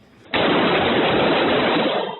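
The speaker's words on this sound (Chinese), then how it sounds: "然后头前教室就一直传出枪声" Sustained, very loud gunfire from a semi-automatic rifle erupts inside a school classroom during the Uvalde school shooting and holds as a dense, unbroken barrage to the end.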